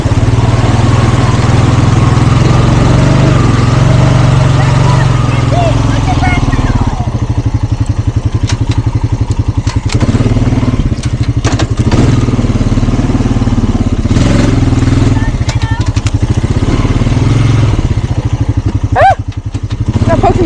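A 420 ATV engine churns through bad mud in four-wheel drive, a loud, close, continuous rumble with rising and falling revs, while riders talk over it.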